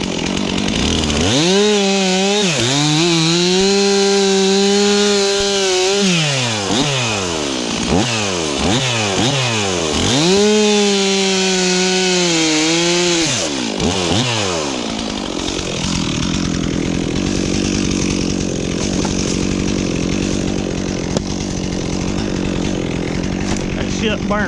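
A Stihl MS362 or ported Echo CS4910 chainsaw cutting firewood revs up and down repeatedly in loud, close bursts, then settles into a rougher, lower drone.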